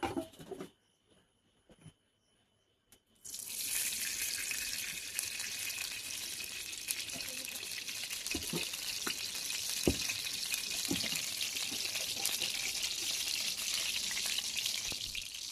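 After a quiet, muffled start, oil poured into a hot wok on the stove breaks into loud, continuous frying sizzle with scattered crackles and pops.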